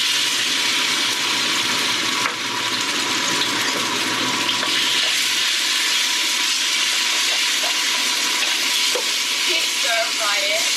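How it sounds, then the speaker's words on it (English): Pork slices stir-frying in a wok with oil, a loud, sustained sizzle and hiss close up, with scraping and stirring noises and faint clinks toward the end. "Stir-fry it."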